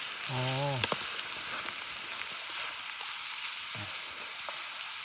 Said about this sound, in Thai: แต่เราไม่ลวกแล้วเราจะผัดทีเดียวเลย